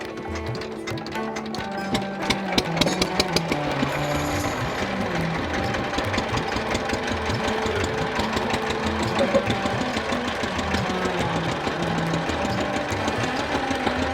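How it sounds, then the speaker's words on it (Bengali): A motorboat engine on the Padma River chugs steadily with a rapid knocking rhythm, running continuously at moderate loudness; music plays faintly underneath. "স্টার্ট দেওয়া হচ্ছে নৌকা সকালবেলা"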